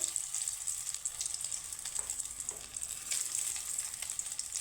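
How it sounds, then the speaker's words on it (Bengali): Soybean balls deep-frying in oil give a soft, steady crackling sizzle with fine bubbling pops. It stays fairly quiet and continuous for a few seconds, with no talk. "সয়াবিনের বলগুলো আমি খুব সুন্দর করে ভেজে নেব"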